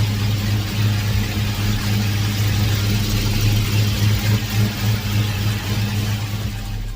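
A car engine with a freshly repaired loose rocker arm idles steadily up close, a low, even rumble with a faint rhythmic pulse and no voices.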